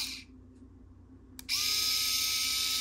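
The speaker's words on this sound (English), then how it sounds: "I have the husband's screw gun, electric screwdriver. So it's supposed to fit right in here. And indeed it does. Turn it on." A husband's electric screwdriver switches on and spins steadily with Rosie's bobbin speed winder insert fitted in its chuck, giving a sustained high whine that starts abruptly after a brief click and holds at an even, fairly loud level.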